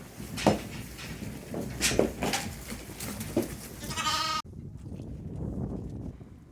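Sheep and lambs bleat repeatedly and close by during lambing on a flock's farm, several overlapping calls in quick succession before the sound cuts to a quieter stretch of softer bleating.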